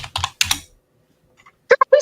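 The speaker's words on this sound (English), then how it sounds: "Who's typing?" Computer keyboard typing in two bursts of close, crisp key clacks separated by a short silence, with a brief voice near the end.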